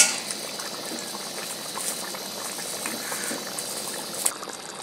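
Bengali halua fish curry simmers in a pan, a steady close bubbling and gentle crackle of boiling liquid that continues evenly throughout, with a faint brief clink near the end.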